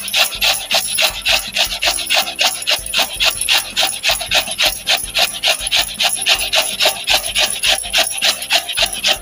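Cucumber with its skin left on being grated for Konkan tavsoli, rapid rhythmic rasping strokes repeating steadily, close and loud, with no talk.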